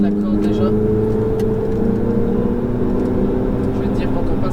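Ferrari 488 GTB on a circuit at Fontenay-le-Comte, its engine droning in a steady, sustained roar heard from inside the car, with an instructor talking over it throughout.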